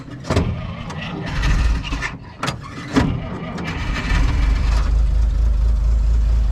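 A 1965 Dodge Power Wagon engine idles steadily with a deep, low rumble, preceded by a few uneven bursts as it catches and settles into a constant drone.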